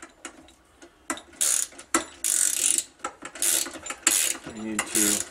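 Ratchet wrench tightening bolts on a Minn Kota Talon mount, a series of quick clicking bursts with short pauses between strokes, close and crisp, with no talking.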